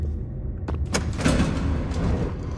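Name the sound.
door opening in Five Nights at Freddy's video game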